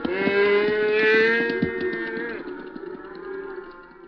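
A cow on a cattle ranch lets out a long, loud, drawn-out moo up close, holding its pitch before slowly tapering off.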